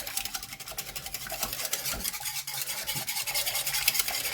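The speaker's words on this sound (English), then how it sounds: "Let's just give all that a nice mix" A spoon mixes gooseberry curd mixture in a pan, making quick, rhythmic scraping and clinking strokes that are close and fairly steady throughout.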